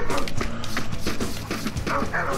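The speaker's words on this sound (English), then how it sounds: "We got dogs here." Dogs bark in the video game Akane, short yips and barks popping out repeatedly over busy, dense game sound effects and music, with no clear talking.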